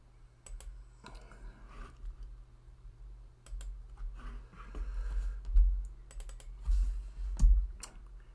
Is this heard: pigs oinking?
no